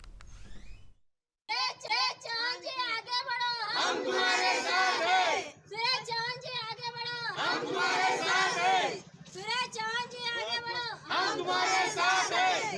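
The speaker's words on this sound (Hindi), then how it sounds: "मेरे ठीक पीछे ये जो आप भीड़ देख रहे हैं" At a street gathering at Durga Chowk in Akola district, a crowd chants and shouts in loud, repeated rhythmic bursts with short pauses between them.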